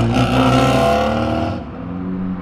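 A car leaving a car event revs hard as the driver's foot slips off the clutch, a loud close engine roar with rich harmonics that drops away and settles into a lower idle-like rumble.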